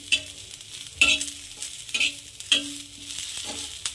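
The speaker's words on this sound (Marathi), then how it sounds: "तावा पण छान तापला आहे आणि जाड आहे ना तवा त्यामुळे डाग पडायला सुरुवात झालेली आहे आपल्या मिरचीला" Green chillies roast on a hot, thick iron tawa, with short scraping stirs and soft sizzles recurring about once a second, close and fairly quiet with no voices.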